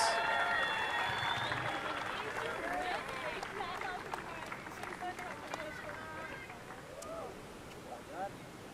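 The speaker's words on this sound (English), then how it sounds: "Fuerte aplauso, big round of applause." Crowd applause and cheering at a beachside surfing contest at Punta Roca, a broad wash of clapping under a loud bilingual announcer's voice, with ocean and wind noise in the background.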